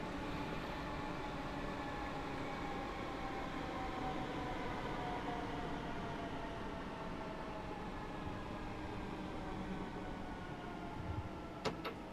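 Electric multiple unit running at speed in Train Sim World 3, a Class 313 on the East Coastway route near Brighton, giving a steady rolling rumble with faint motor whine and a brief sharper click near the end.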